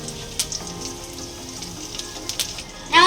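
Mustard seeds and curry leaves sizzling in hot oil for a brinjal tamarind kuzhambu, a steady soft crackle with scattered pops, ending in a sharper burst.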